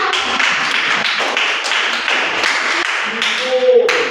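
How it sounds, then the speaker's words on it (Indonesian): A classroom of students applauds together in a busy, continuous patter of claps, with voices mixing in beneath. "Tepuk tangan buat kita semua"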